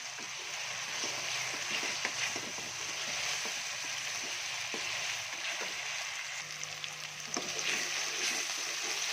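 Masala spices roast in a pan for aloo gobi, giving a steady, fairly quiet sizzle with scattered clicks and scrapes of stirring.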